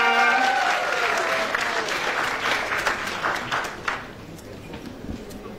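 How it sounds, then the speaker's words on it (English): Applause and cheering for Mkhega High School at a regional school competition, a loud burst of crowd clapping with a high voice or whistle at the start, gradually thinning and fading. "A big round of applause for Mkhega"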